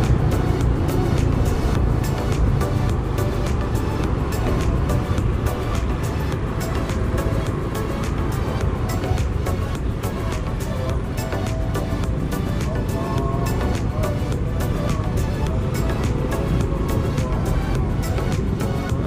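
Congested traffic on the Karawang–Cikampek highway during the 2022 Lebaran homecoming, heard from a moving motorbike: a steady, loud engine and road rumble with surrounding vehicles droning continuously throughout, no talking.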